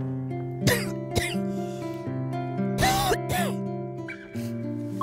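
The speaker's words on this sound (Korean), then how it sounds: "계속 기침을 하세요." A woman with fluid around the lungs and cancer spread to the chest lining coughs repeatedly outdoors on a morning walk, several harsh bursts spread over a few seconds above a steady background hum.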